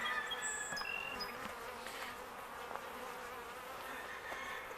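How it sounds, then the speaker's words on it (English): Honey bees buzz steadily around a full trash can outdoors, a dense continuous drone of many insects close by with a few louder passes over the top. "our trash can's getting kind of full with bees on it"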